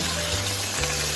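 Chicken frying with onions in a pan for Indian chicken shorba gives a steady, close, broadband sizzle with a faint low hum underneath and no voices.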